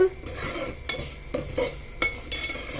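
Peanuts and cashews frying with onions in a pan for godhuma rava semiya upma, a steady close sizzle broken by several sharp scrapes and clinks of a spoon stirring against the metal.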